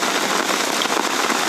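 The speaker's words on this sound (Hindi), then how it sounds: "अभी भी बारिश चालू है" Heavy rain pours down steadily over a garden of potted plants, a dense, continuous close patter with no break.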